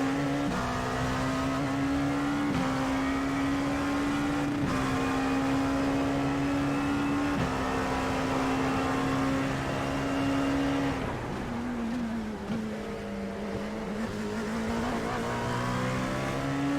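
Race car engine in the iRacing video game at Charlotte, an IMSA round, holding a steady high drone with gear shifts and a brief dip as the car brakes, continuous and loud.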